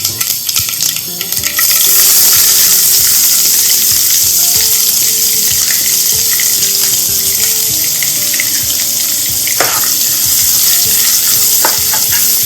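Onions and finely chopped green chillies tossed into hot oil with spluttering mustard seeds for egg keema, a sudden loud sizzle rising after a moment and holding steady with stirring clinks, no talk.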